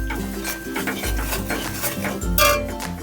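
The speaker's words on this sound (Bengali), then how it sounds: "মিষ্টি দেওয়ার পরে আমি খুব ভালো করে নাড়িয়ে দেবো।" A spoon stirs a spinach kebab mixture in a pan with steady scraping and clinking against the metal, close and fairly loud, with a soft sizzle underneath.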